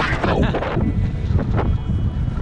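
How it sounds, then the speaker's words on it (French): Strong wind buffets the microphone outdoors during a winter road bike ride, a loud continuous roar and rumble with gusty surges throughout. "ça souffle quand même pas mal. Je sais pas si vous entendez le vent"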